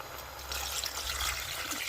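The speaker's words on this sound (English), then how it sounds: "and pour some water." Water poured into a cooking pot of cocoyam soup with stockfish and goat meat, a steady close splashing fill running continuously for a couple of seconds.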